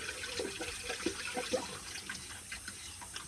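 Water draining from a household pressure tank once its Schrader valve is pulled, a faint, uneven trickle and gurgle with small splashy drips scattered throughout.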